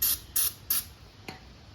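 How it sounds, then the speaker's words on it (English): Aerosol cleaner sprayed into a brake caliper to clean the piston on a 2014 Yamaha Bolt 950cc rear brake, three short close hissing bursts in even rhythm followed by one brief faint puff. "I'm just going to spray this inside"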